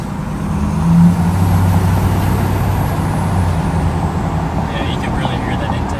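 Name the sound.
turbo and intake of deleted Ford Tremor Powerstroke diesel truck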